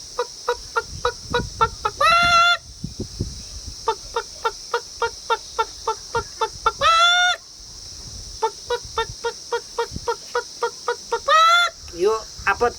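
A man imitates a hen's alarm call with his voice: rapid, rhythmic clucking pulses broken by three loud squawks, close and clear.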